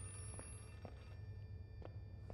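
A telephone rings in the Outlast 2 video game, with repeated bell-like bursts at a steady rhythm, moderately faint over a low background hum.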